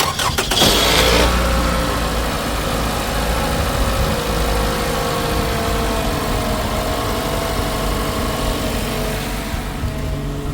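A car engine cranks and catches, then settles into a steady running idle, loud and close for the rest of the stretch with no talking.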